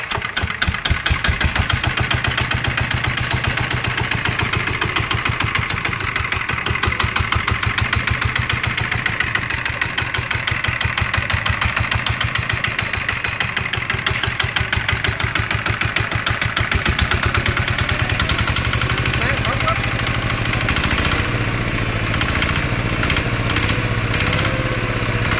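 A Zanma SS 70 motorcycle engine idles with a steady close putter and a mid-range exhaust drone, later rising in pitch and loudness in short rev bursts, with no talking.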